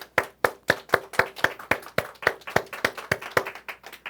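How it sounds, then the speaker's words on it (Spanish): Claps in a church congregation gathering, distinct and evenly spaced, roughly sixteen sharp strikes at a steady beat, close and fairly loud with no talking over them. "aplauso."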